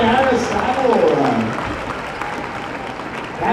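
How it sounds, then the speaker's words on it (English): Audience applause for Aristotle, a skipping super dog, at a dog show at the Calgary Stampede, a steady broad patter of clapping that fades gradually over several seconds, with a voice briefly over it. "Have an applause for the skipping super dog, Aristotle"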